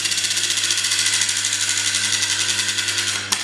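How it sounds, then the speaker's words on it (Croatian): A small 9 V electric motor spins a stroboscope disc at normal speed, giving a steady close whirring hum with a faint regular pulsing and a brief click near the end. "na motor koji se okreće normalnom brzinom"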